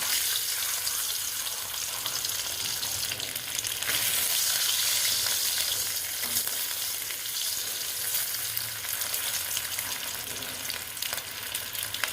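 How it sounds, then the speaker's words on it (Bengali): Eggs frying in a pan for an egg and capsicum masala give a steady, close sizzle of hot oil that crackles evenly and continuously throughout, with no voices. "ভাজা হয়ে গেছে ডিমটা"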